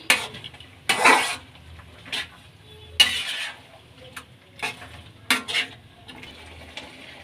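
Spicy potato balls in a pan, heard as intermittent loud scraping and clattering bursts of a utensil against the pan over a faint, low sizzle.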